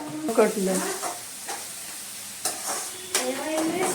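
Prawns and onions frying in a pan, a steady sizzle with scraping stirs and a few clanks, under a voice speaking throughout.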